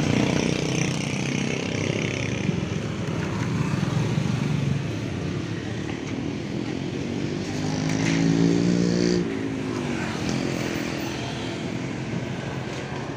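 Two matching motorcycles idle close by, a steady low engine rumble that swells briefly in the middle before settling back, with no talk over it.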